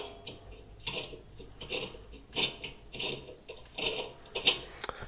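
A metal nut is threaded onto the axle of a Harbor Freight generator wheel kit, with a series of faint scraping, rasping metallic turns in short repeated bursts.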